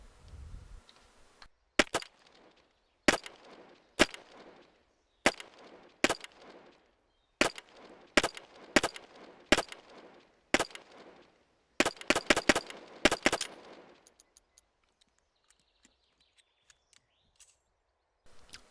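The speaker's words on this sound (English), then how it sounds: "Let's go ahead and shoot the P07." Pistol shots from a P07 in a video game running the Speed of Sound mod: about seventeen sharp, loud reports, singly and in pairs, then a rapid burst near the end before the firing stops and it goes quiet.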